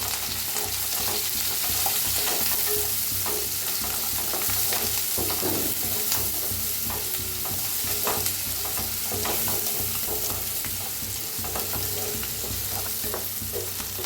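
Crushed garlic, curry leaves and onion frying in a pan for misal pav, a dense continuous sizzle with intermittent stirring scrapes running the whole length, close and even.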